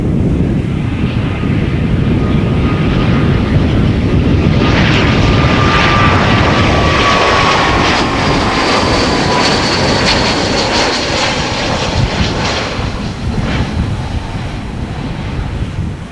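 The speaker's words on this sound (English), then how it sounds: "747 on the move." A Boeing 747 jet airliner moves at an airport with its engines running, a loud, steady jet roar and whine mixed with wind buffeting on the microphone, continuous throughout.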